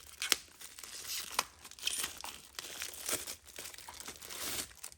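A plastic bag holding a USB cable for a label printer is crinkled and torn open by hand: quiet, close rustling with several sharp tearing snaps scattered throughout.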